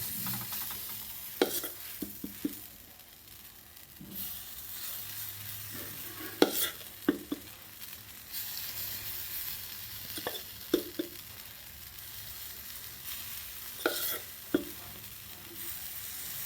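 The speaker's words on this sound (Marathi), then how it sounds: "थोडंसं तेल घालायचं आहे आणि या पद्धतीने आपण सगळे आप्पे करून घ्यायचे आहेत बघा" Appe, rice and mixed-lentil dumplings, fry in a little oil in an appe pan: a soft continuous sizzle runs throughout, broken by sharp clicks and taps of a utensil turning them at irregular intervals, close and moderately quiet.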